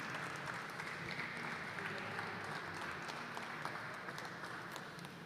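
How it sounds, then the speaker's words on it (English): Audience applause rises at a glassblowing studio as artists finish a hot glass piece, a steady, fairly faint wash of clapping that holds for several seconds. "let's give them a round of applause for finishing that piece"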